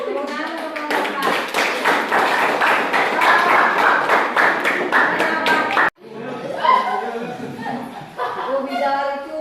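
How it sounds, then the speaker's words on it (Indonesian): A classroom gives brisk applause for someone speaker during a teaching session, a dense run of rapid hand claps from many people lasting several seconds, then cutting off into children's and adult voices talking. "Tepuk tangan untuk Bapak."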